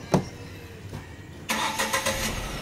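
A car engine cranks briefly with a couple of short starter bursts, then catches at about halfway and settles into a close, throbbing idle, with no talk over it.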